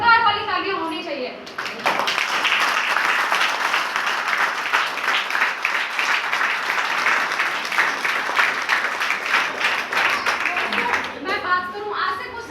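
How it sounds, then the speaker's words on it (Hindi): A large audience claps loudly and steadily for about nine seconds at a stage event, with a voice speaking before and after the applause. "एक बार अब तक की सबसे ही जोरदार वाली तालियां होनी चाहिए।"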